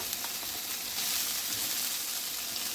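Mince and onion frying in oil in a pan, a steady close sizzle with crackling spits and a brief stir, continuous and fairly loud with no talking.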